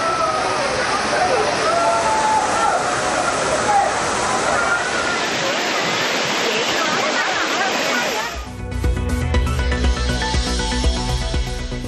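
The waterfalls at Courtallam give a loud, steady rushing roar of falling water for about eight seconds, then it cuts abruptly to music.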